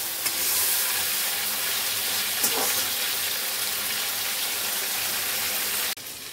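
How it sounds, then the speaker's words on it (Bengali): Prawns frying in a pan of oil: a dense, steady close-up hiss that runs almost unbroken, with a faint clink partway through, then cuts off abruptly near the end. "চিংড়ি মাছটাকে আগে ভেজে নিই ভালো করে।"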